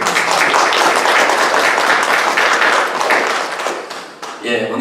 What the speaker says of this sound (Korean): 우리 감사와 영광의 우리 박수를 하나님께 한번 같이 올려드리겠습니다.